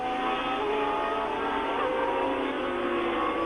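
Jabouille's Renault Formula 1 car at the 1979 French Grand Prix, a steady high engine drone at sustained speed, fairly loud and constant with slight pitch shifts.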